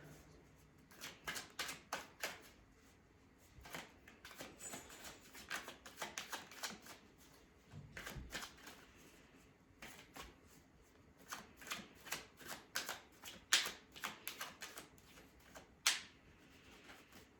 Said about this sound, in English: I want to pull some cards